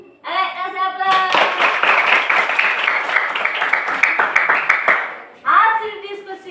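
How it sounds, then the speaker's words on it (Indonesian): Classroom applause from a group of students, a burst of clapping that lasts several seconds and then breaks off, with children's voices before and after. "Kasih aplaus."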